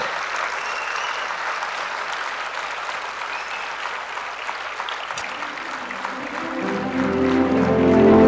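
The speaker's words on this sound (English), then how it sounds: "Keep your applause going, ladies and gentlemen." Sustained applause from an awards ceremony audience, a steady wash of clapping that swells louder toward the end, with no one speaking over it.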